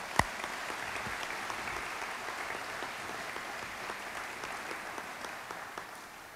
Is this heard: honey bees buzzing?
no